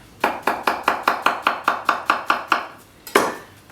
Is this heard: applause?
no